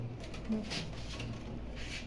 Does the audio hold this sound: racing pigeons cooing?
yes